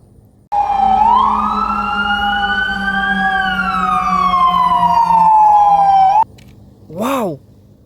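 A toy police car blares a loud electronic siren with a slowly rising and falling wail for several seconds, then cuts off, followed by a brief warbling chirp.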